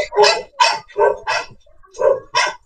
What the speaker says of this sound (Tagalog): Ang lakas ng tawal ng aso